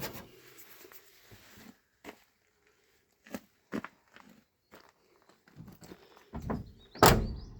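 Quiet shuffling and a few scattered knocks lead up to a single loud, solid thunk of a 1979 Ford F-100 4x4 XLT pickup door slamming shut at the end.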